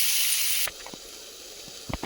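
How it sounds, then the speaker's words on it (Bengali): Tomato and garlic hit hot oil in a pan with a loud burst of hissing that cuts off abruptly after a moment, leaving quiet, scattered small pops and clicks. "এগুলো সব একসঙ্গে খুব ভালো করে ভেজে নেব আগের বেগুনের মতো"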